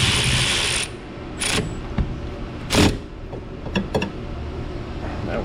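A ratchet with a 14 mm socket works a brake caliper bolt on a 2010 Chevrolet Equinox 3.0 AWD, close rapid pawl clicks in short bursts alongside metallic clanks and a loud thunk.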